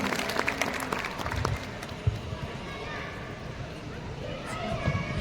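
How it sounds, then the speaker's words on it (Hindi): A large crowd at a Hindu gathering applauds on request, loud dense clapping mixed with crowd noise and chatter, continuing steadily throughout. "तो एक बार अपनी तालियों से मुझे आदेशित कर दीजिए"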